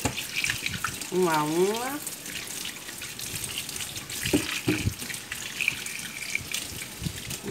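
Kitchen tap water runs steadily into a sink while mangoes are washed by hand for a dessert, with someone speaking briefly over the continuous splashing flow.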